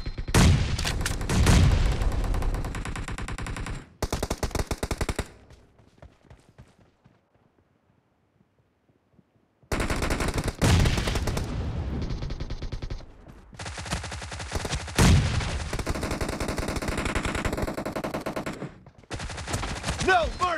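Rapid bursts of video game gunfire, loud and close, come in two long stretches separated by several seconds of near silence, with machine-gun-like rattles and single shots crowding together.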